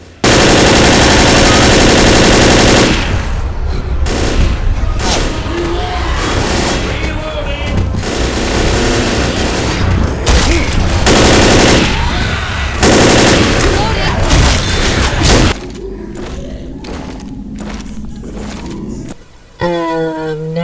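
Explosions in an Xbox video game campaign, Coal'd Blood, come as a loud sustained barrage of blasts and rapid gunfire-like bursts, then die down into quieter rumbling and scattered sounds near the end.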